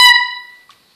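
A clarinet blown badly, with too much air and poor lip position, gives one short, shrill, buzzy honk that starts loud and fades out within about a second.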